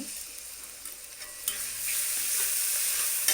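Maggi noodles with masala stirred in a pan, giving a steady close sizzle with light scraping, a few utensil clicks and a slightly louder frying hiss in the second half.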